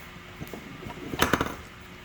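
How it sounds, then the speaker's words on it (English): A ball peen hammer strikes a Whitney punch in a quick cluster of two or three metallic taps near the middle, close and moderately loud over a steady background hum. "The hammer will work."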